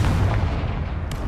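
A Confringo spell goes off in a Harry Potter video game, a loud, dense blast of booming low rumble that holds steady across the moment, with a short bright crackle near the end.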